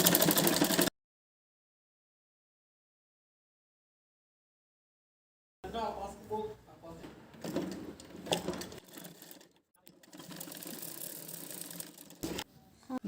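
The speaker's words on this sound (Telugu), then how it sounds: "ఈ విధంగా కుట్టుకున్న తర్వాత మళ్ళీ దీని పక్కన నుంచి ఒక కుట్టు వేసుకోండి" A sewing machine stitches a lehenga blouse for a young girl, short runs of rapid mechanical clatter close by, broken by a long silent gap and brief pauses.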